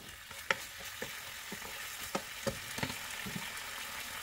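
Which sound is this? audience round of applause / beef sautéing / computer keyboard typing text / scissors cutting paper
beef sautéing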